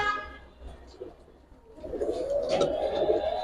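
A Nazra Kaldam Giribaz pigeon coos in low, soft calls close by, growing fuller toward the end, with a voice briefly heard early on.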